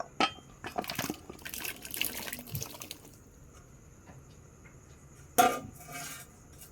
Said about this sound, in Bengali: এর মধ্যে আমি কেটে ধুয়ে রাখা আলু আর কাঁঠালটা দিয়ে দেব।